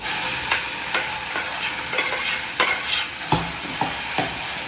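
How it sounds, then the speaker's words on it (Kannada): Cooked moong dal is stirred in a hot pan with a constant sizzle and repeated scraping spoon strokes, close by, with no voices. "ಹೆಸರು ಬೆಳೆದು ಬೇಯಿಸ್ಕೊಂಡಿರೋದನ್ನ ಆ್ಯಡ್ ಮಾಡ್ತಾ ಇದ್ದೀನಿ"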